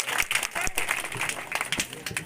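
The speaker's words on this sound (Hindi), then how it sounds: "एक बार जोर से ताली बजा दो सरपंच साहब के लिए" A crowd claps loudly for the village head (sarpanch) at a gram panchayat gathering in Beriyakhedi, Biaora; dense, continuous applause fills the clip with voices mixed in.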